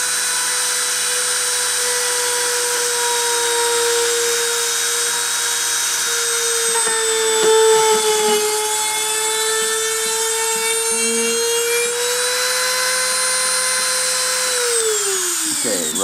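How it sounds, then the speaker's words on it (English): A machine spindle runs loudly and steadily close by, a sustained motor whine with a constant high-pitched tone that dips briefly and winds down near the end. "starting up the spindle again."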